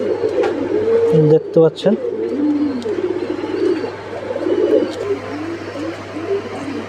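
Red bar and mealy bar Mukhi pigeons cooing in a loft, soft, throaty repeated coos throughout with a steady low hum beneath and someone speaking briefly over them.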